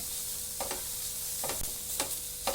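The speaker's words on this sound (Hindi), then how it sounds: "इसको लगातार चलाते रहना है ताकि हमारी स्टफिंग जल ना जाए।" Shredded cabbage and chicken stuffing sizzle in a hot pan, with a spatula scraping through it in several distinct strokes over the steady frying hiss.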